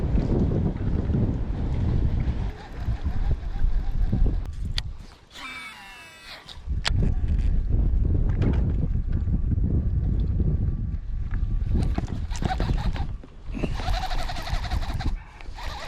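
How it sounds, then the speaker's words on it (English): Strong wind blowing during early spring bass fishing from a boat, heavy buffeting rumble across the microphone that drops out briefly midway, with faint higher noises over it. "I didn't know the wind was gonna be ripping like this today"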